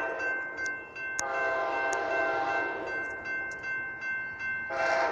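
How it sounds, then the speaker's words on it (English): A northbound Amtrak Talgo passenger train rumbles past steadily on the main track while its horn sounds in several long, loud blasts, the last one strongest near the end. "Okay, train is coming."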